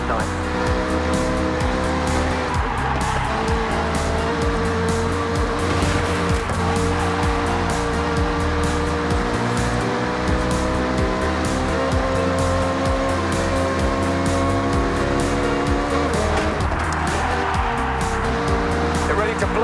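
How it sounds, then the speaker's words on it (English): Race cars in Forza Horizon 6 roar at high revs with tire squeal, a close, constant engine drone throughout as voices talk over it. "They're ready to blast those engines."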